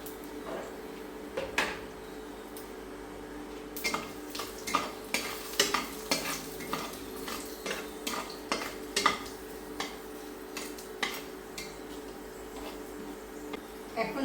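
Bay leaf and cumin frying in hot oil in a pan, with a soft steady sizzle broken by repeated scraping and clinking strokes of a spoon stirring at irregular intervals, close by.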